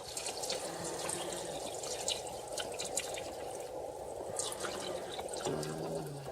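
Chicken stock pours steadily into a pot for a chicken stew, a continuous close liquid splashing and trickling that runs the whole time with no talk over it.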